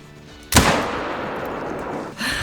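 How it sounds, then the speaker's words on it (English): A single loud rifle shot in the hunting video game theHunter: Call of the Wild, a sharp close blast followed by a long rolling echo that decays slowly, then a second burst of noise at the end. "Okay, let's keep shooting."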